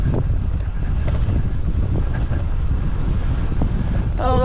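Headwind buffets the microphone on an electric mountain bike ride in the Brecon Beacons, a loud, constant roaring rush of wind noise throughout, with no talking.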